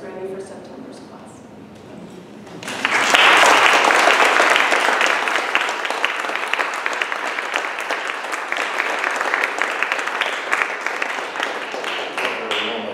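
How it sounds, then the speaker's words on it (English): After a quiet stretch with a voice, an audience at an academic symposium on Dante bursts into warm applause, many hands clapping steadily and fairly close for about ten seconds. "A warm applause."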